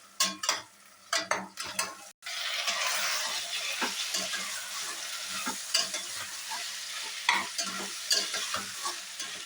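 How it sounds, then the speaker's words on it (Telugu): Frozen corn and peas stir-fried in a pan for veg dum biryani, a burst of hissing sizzle after a few clattering stirs, then continuous frying with repeated scraping and tapping of the spoon, close up and without talk. "దీనిలో ఇప్పుడు వెజ్జెస్ వేయాలి."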